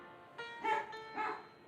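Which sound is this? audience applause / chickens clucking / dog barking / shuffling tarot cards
dog barking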